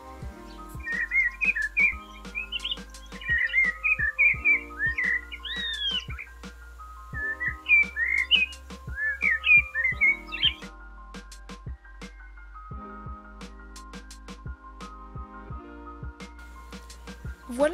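A common starling sings in a garden, a busy run of whistles, chirps and sharp clicks in bursts with short pauses, close and fairly loud.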